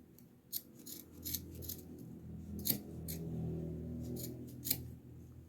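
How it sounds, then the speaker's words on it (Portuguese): Scissors snip through knit fabric yarn in a series of crisp, close cuts, roughly ten quick clicks spaced irregularly over a soft background, with no speech. "Eu tenho que cortar mais, e eu vou cortando, aparando ele até ficar com o tamanhozinho que eu quero"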